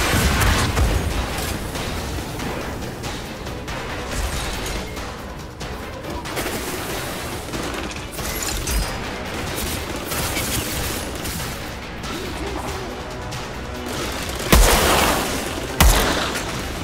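Dense gunfire from the video game Outriders, with sniper rifle shots among sustained automatic bursts and booms, loud and continuous throughout, with two sharp heavy reports standing out near the end.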